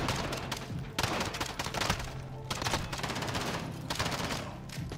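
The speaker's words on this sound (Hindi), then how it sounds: "ये लोग मुझे शूटिंग कर रहे हैं।" Enemy gunfire in Call of Duty: Modern Warfare, dense rapid automatic bursts rattling almost continuously with brief gaps, loud and close, with no talk over it.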